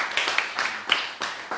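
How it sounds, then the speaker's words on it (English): A small audience claps for Mike Williams at a mastermind event, a handful of distinct sharp claps landing in an uneven rhythm, close and moderately loud, with no talk over them. "Clap up for him."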